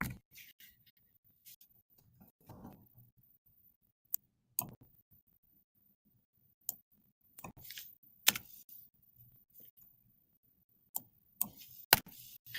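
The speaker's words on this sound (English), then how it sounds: "I'm just typing random numbers." Sparse, quiet clicks of keys being typed in short bursts with pauses between, close by in an otherwise silent room.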